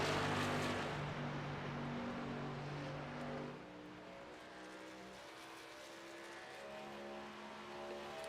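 Race truck in a short-track series running down the backstretch toward turn three, heard as a loud, sustained engine roar that shifts pitch as it passes and fades slightly into the distance, with no talk.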